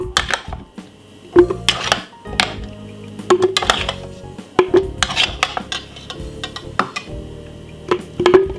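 Chunks of raw beetroot drop into a blender jar, giving a series of irregular clunks and knocks against hard surfaces, fairly close and loud with no talking.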